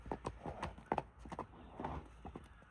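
Hooves of a Kyrgyz horse clip-clopping, a quick irregular series of sharp knocks at close range, fairly faint and alone.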